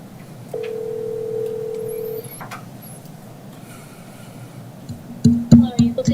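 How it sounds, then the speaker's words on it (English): A telephone call placed during a county planning commission meeting: a steady dial tone holds for about two seconds, then a quiet gap, then a burst of rapid dialing tones near the end. "let me get her on the phone"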